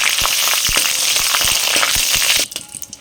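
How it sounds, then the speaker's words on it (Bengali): Whole spices, bay leaf and dried red chilli crackle and pop sharply in hot mustard oil in a kadai, a close, busy frying hiss that cuts off abruptly near the end. "মশলাটা 30 থেকে 40 সেকেন্ড ভেজে নিয়েছি"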